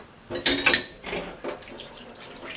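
Hands being rinsed under a running kitchen tap, water splashing in short close bursts for a couple of seconds, with light clatter near the sink and no talking.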